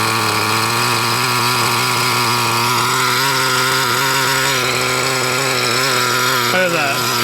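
A Traxxas T-Maxx nitro RC truck engine idles, a loud, steady, buzzy two-stroke drone with a slight wavering pitch that runs continuously and close up, with talk over it.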